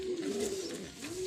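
Racing pigeons coo continuously at close range, a steady low warbling call that swells and dips through the short stretch, with no talk over it.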